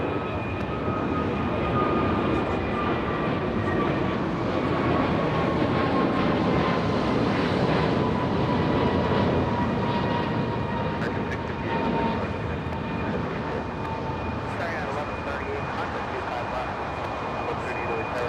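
A Philippine Airlines jet airliner on the move at Los Angeles International Airport gives a sustained engine roar with a steady whine slowly falling in pitch, while a person talks over it at times.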